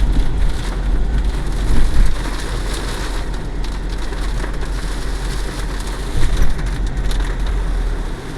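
Heavy rain falls in the hill country around Kallar, a loud continuous wash of drops hitting surfaces, with a deep low rumble underneath and a couple of brief surges in intensity.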